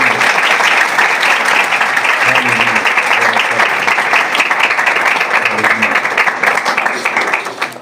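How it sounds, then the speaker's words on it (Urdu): An Urdu-speaking church congregation claps loudly in praise of the Lord, a dense, continuous roar of many hands that stays strong for several seconds, with faint voices mixed beneath. "آئیں خداوند کے لیے زوردار تالیاں بجائیں"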